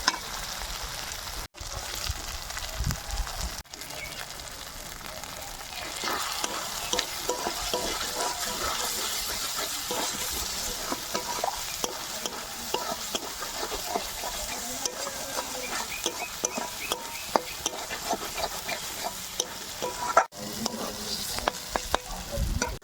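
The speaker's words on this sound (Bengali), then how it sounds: "দিয়ে মশলাটা আবার একটু ভালো করে কষিয়ে নেব" A spice paste of ginger, garlic, cumin, chili and dried red chili, with salt and turmeric, is stir-fried in a pan for a fish curry, giving a steady oily sizzle with repeated scraping stirs throughout.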